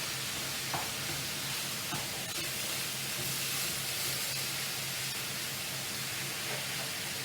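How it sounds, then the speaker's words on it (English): Hamburger meat frying in a pan, a steady broadband sizzle and hiss that runs continuously and fairly loud throughout, with no voices over it. "Fry up hamburger."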